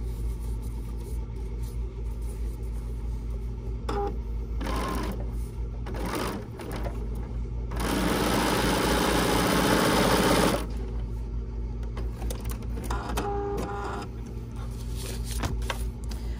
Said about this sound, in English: I'm going to flip it over, and I'm going to stitch again.